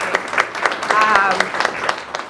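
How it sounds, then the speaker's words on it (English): Audience applause after a lecture presentation, a steady wash of many hands clapping that runs beneath a speaker's voice throughout. "I'm going to ask us to have another round of applause"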